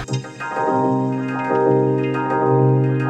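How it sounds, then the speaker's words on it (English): Sustained chords sampled on an S4 swell and shift in tone, their brightness sweeping gradually as a filter slowly opens and closes over the held harmony. "Got that lovely filter wave stuff happening."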